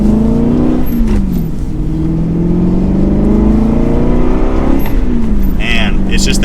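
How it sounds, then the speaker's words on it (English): An Aston Martin Vantage GT's naturally aspirated V8 revs up through the gears with a smooth, rising drone and shift dips, heard loud from inside the cabin. A person speaks over the engine. "So, the V8 also is already sounding really good."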